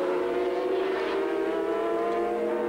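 A racing car engine screams at over 12,000 rpm, a loud, sustained high-pitched wail that holds steady with slight rises and dips.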